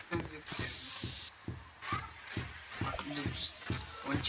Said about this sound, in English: Use a spray can.